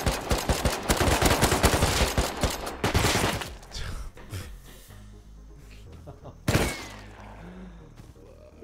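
AK rifle gunfire in the modded survival game Rust: dense rapid bursts of automatic shots up front, then sparser single cracks and a later burst, with a player's voice talking in between.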